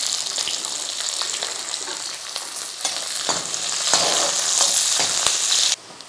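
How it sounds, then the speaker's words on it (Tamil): Small onions sauté in hot oil with crackling mustard seeds, cumin and curry leaves for a plantain curry, a loud steady sizzle with stirring scrapes, close up, that drops away abruptly near the end. "இப்போ வெங்காயம் வதங்கியிருக்கு."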